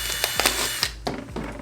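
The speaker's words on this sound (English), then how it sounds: "Drill a hole at the top, and then drill a hole at the bottom." A drill bores holes in a 5-gallon plastic bucket, giving a close, steady grinding whir broken by several sharp cutting clicks as the bit bites through.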